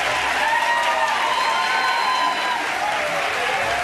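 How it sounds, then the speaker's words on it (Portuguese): A television studio audience in Brazil applauds two ambassadors, sustained steady clapping with faint crowd murmur, loud and even for a few seconds with no talking. "Nosso aplauso"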